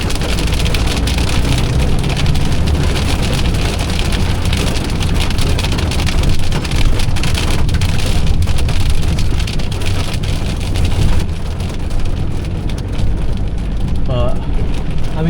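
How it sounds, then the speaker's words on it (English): Hailstones and rain drum steadily on a van's roof in Scotland, a dense, loud, continuous patter that holds for the whole stretch without letting up. "Actual hailstones as well."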